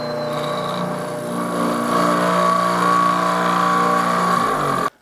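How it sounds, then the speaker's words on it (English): A steady, high-pitched electric drill whine runs continuously at close range, drilling out a brass instrument valve, holding a sustained tone before cutting off abruptly at the end. "I'm going to drill that out."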